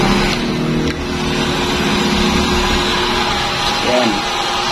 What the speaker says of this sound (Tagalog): So iinitin na natin guys, ito yung blower.